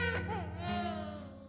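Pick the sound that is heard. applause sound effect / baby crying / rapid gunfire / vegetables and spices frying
baby crying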